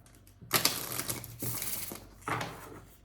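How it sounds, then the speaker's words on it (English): Close, soft riffling and slapping of a deck of tarot cards being shuffled in a few quick bursts. "Shuffling for Capricorn, for action,"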